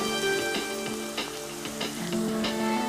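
Spices and gravy ingredients for egg masala sizzle and crackle in a hot pan, a loud, close, continuous fry with a few stirring clicks and no talking.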